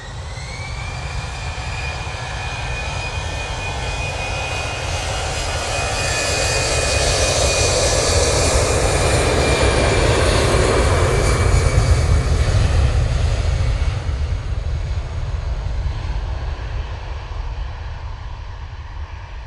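A Lufthansa Airbus A319 takes off from Manchester Airport bound for Frankfurt, its jet engines a loud sustained roar that swells to a peak around the middle and then slowly eases, with a thin whine riding above the rumble and no talk.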